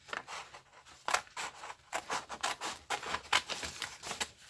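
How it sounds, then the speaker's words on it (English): Scissors cutting paper for a handmade recycled art journal, a close series of short, crisp snipping and rasping strokes in an uneven rhythm, with no talking. "we'll just take our scissors"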